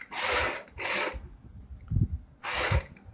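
A sewing machine stitches around the edges of kurti fabric in three close, loud whirring bursts, each about half a second to a second long, with soft handling thumps in the pauses between them.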